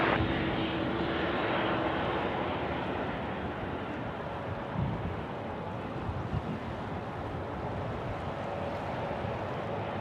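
An airliner taking off from runway 34 left at Sydney Airport, its engines a loud, steady jet roar that builds early and then holds as a broad rumble at a distance, with no talk.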